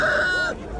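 A rooster at a poultry market in Jalaquduq lets out a short, loud, close call that ends abruptly.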